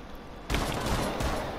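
A burst of gunfire in the video game Rainbow Six Siege cuts in sharply after a quieter start, with dense, loud rapid shots that continue to the end.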